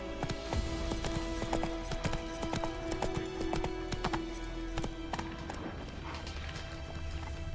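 Roach, a horse in The Witcher 3: Wild Hunt, gallops with steady, rapid hoof clip-clops close by, over a continuous low game ambience and a faint sustained tone.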